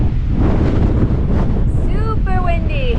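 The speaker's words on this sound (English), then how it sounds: "Super windy." Strong gusting wind roars into the microphone beside Stump Lake on a gravel road in British Columbia, a loud continuous rush with bird chirps faintly cutting through near the end.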